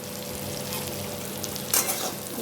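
Pumpkin bori with bitter gourd frying in a pan on a gas stove, a steady close sizzle with a brief louder scrape of stirring near the end.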